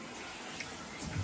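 A shower runs steadily, a soft even hiss of falling water with a slight splash near the end. The water is fairly quiet and no one speaks.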